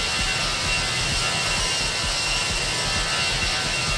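Airbus A319 jet engines in the X-Plane 11 flight simulator, cruising high at around 38,000 feet: a steady, loud broadband roar with a low rumble and a faint high whine, unbroken throughout.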